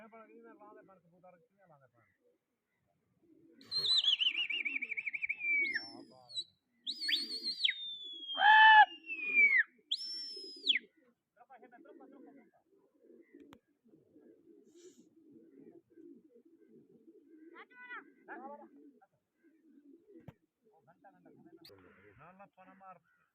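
Pigeons cooing and calling outdoors, a few clear bird calls standing out over a low background of people talking, with quieter stretches between.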